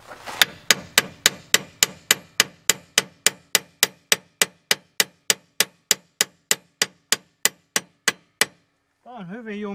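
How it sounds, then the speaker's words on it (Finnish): Steady, evenly spaced hammer blows ring out on a stuck metal brake part of a Valmet 602 tractor, about two dozen sharp strikes in a row, then stop as a voice begins. "Jos sille vähän antaa vasaraa. Sitten mä saan se liikkumaan."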